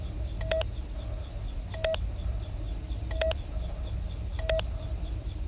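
Keypad tones from the Five Nights at Freddy's Sister Location video game: four short clusters of beeping presses spaced about a second apart, over a steady low background hum.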